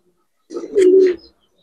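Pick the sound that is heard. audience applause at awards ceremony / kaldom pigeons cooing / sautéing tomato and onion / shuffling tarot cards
kaldom pigeons cooing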